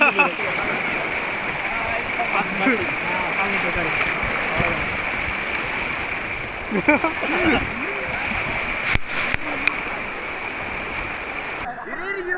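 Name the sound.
river water splashing as people swim in current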